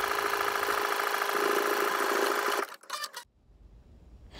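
A sewing machine runs fast and close, stitching a sleeve band onto a sleeve in a steady whirring rattle, then stops abruptly with a few faint clicks and quiet afterward.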